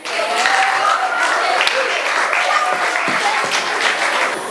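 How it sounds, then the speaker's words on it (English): Audience applause at a youth council awards ceremony in a theater, dense sustained clapping from a crowd lasting the whole stretch at steady loudness. "can you please give a round of applause to Muhammad Jama?"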